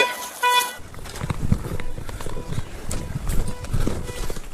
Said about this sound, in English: Is that my car beeping?